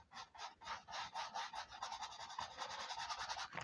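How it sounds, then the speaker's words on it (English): A brush scrapes oil paint onto dry canvas in quick, rhythmic back-and-forth strokes, a close, dry rasping rub repeated steadily, quiet and alone without talking. "you can tell my canvas is still quite dry by the way I'm having to scrape the paint on"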